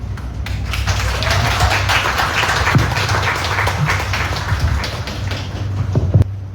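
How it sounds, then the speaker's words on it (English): An audience at a Miss American Samoa pageant applauds, a dense, sustained wash of clapping that stays loud and even throughout, ending with a few sharp claps. "Clap time."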